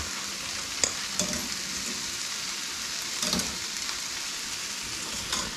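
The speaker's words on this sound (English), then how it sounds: "just gonna toss them with just a little bit of oil so they don't stick together" Freshly boiled spaetzle dumplings tossed with a little oil, giving a steady wet, sizzling hiss with a few soft clicks and bumps of stirring, close up and with no voices.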